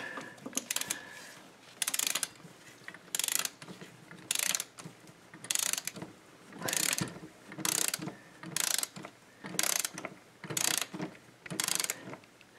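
A ratchet wrench clicks in quick repeated bursts while tightening valve cover bolts on a 2005 Chevy Colorado, about a dozen short, close ratcheting strokes with brief pauses between them and no talking.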